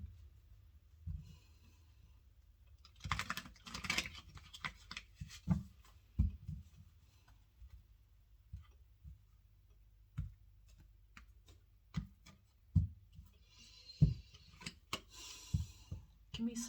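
Tarot cards being shuffled by hand for a reading, heard as scattered soft clicks and papery flicks in short bursts, fairly quiet with gaps between.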